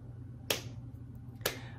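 Two sharp, close hand claps about a second apart in a quiet room with a faint low hum; no singing or talk is heard.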